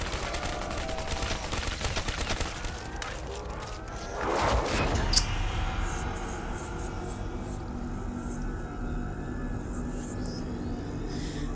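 Rapid bursts of gunfire in the Black Ops 3 zombies mode on the Nuketown map, dense volleys over the first half with a loud swell mid-clip, then a lower game rumble with scattered sharp effects.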